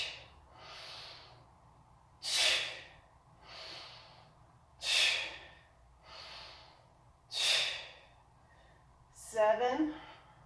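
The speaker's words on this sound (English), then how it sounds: "exhale through your teeth" Yoga practice with slow, steady breathing, loud hissing exhales forced through the teeth alternating with quieter inhales, four strong breaths in a regular rhythm, close and with no talk.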